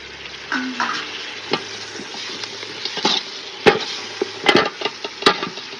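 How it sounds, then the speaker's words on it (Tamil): Tomatoes fry in an oily pan for chicken biryani, a soft continuous sizzle with a low hum underneath and several sharp scraping knocks of a stirring spoon toward the end, no voices. "தக்காளி பழம் போடுங்க அப்படியே தக்காளி பழம் நல்லா கெட்டைகிற அளவுக்கு பொரியணுமா"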